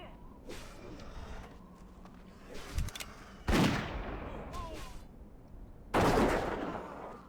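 Gunfire from a marine in the Geek Crusade game, with several sharp, loud bursts of shots that stand out above steady in-game background noise, one around the middle and another near the end.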